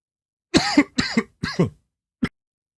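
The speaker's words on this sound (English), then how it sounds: "tried to get that coughing fit out of my system" A coughing fit: four harsh coughs in quick succession, close and loud, the last one short and isolated after a brief pause.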